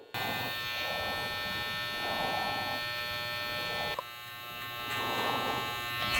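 Electric hair clippers fitted with a size 1 guard taper the sides during a temple taper fade haircut, giving a steady close buzz with a fine electrical hum that dips briefly midway, then swells again as the blade works through hair.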